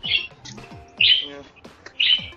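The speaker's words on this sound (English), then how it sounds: "he's chirping right next to the mic" A pet bird chirps close to the microphone, with three bright, loud chirp bursts about a second apart and softer twittering between them. No one speaks.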